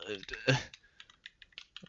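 Typing on a computer keyboard during a game session, heard as a quick run of soft, separate clicks following a burst of speech at the start.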